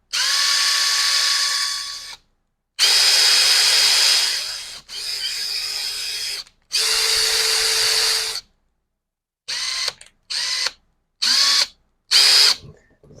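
Repaired Makita impact driver whirring loudly in three long bursts at differing speeds, then several short trigger pulls separated by silence.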